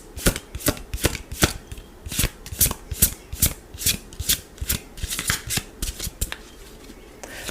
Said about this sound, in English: I'm going to get some more cards on this.